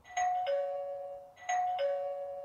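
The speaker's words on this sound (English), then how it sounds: "when visitors press it, it could trigger a sound on the Aqara hub." An Aqara smart-home hub plays its built-in doorbell chime after a smart button is pressed, two clean ding-dong rings in succession, close and moderately quiet with no talking.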